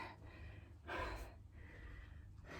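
Heavy panting after a cardio workout, with short gasping breaths and one louder, harsher exhale near the middle, close and alone with no talking.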